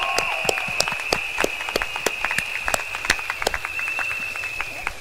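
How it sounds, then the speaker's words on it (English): An outdoor political rally crowd applauds the sign language interpreter with sparse, scattered claps, popping sharply over a constant high-pitched whine and faint background murmur. "Shall we give them a big round of applause?"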